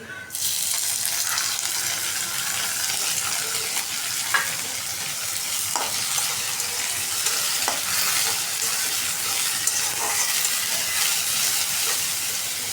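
Shrimp fry in a pan while being cooked with potato and drumstick, giving a steady close sizzle and hiss with occasional stirring clinks and scrapes, and no voices.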